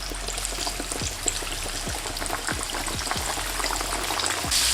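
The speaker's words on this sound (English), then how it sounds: "And into the hot oil." Pieces of breaded chicken for a sandwich frying in hot oil, a steady close sizzle and crackle with a string of bubbling pops throughout.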